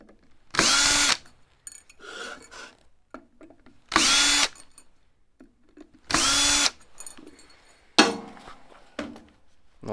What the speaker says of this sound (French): Je dévisse.